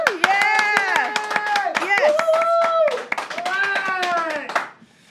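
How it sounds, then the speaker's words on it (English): A small audience claps for a scooter essay competition winner, with close, sharp individual hand claps under a woman's sustained, singing-like vocal sounds, the clapping fading out at the end. "Give her a big round of applause."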